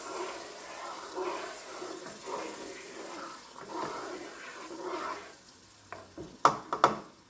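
Heavy whipping cream being stirred into melted butter in a pan for chicken Alfredo, giving a steady soft sizzle with scraping strokes and a few louder clanks of the utensil near the end.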